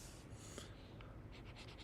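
Chalk or marker writing on a board during a fluid mechanics lecture, a soft continuous scratching stroke running through most of the short stretch, faint and close, with no talk over it.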